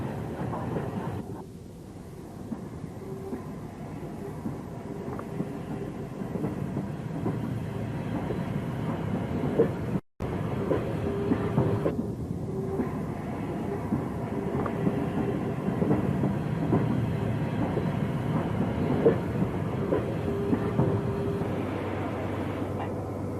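British steam locomotive train from 1950s archive footage running steadily, with a continuous rumbling rolling noise, faint clanking and a brief dropout midway.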